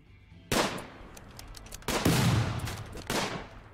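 Gunfire in the RimWorld video game, three loud close bursts of rapid shots separated by short pauses.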